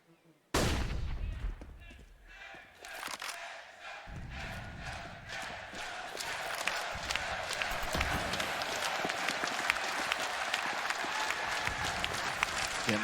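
Large arena crowd at a Counter-Strike esports match between ENCE and Team Liquid at Katowice 2019, cheering and clapping loudly and continuously to rally ENCE, rising from a sudden burst into a sustained roar for over ten seconds.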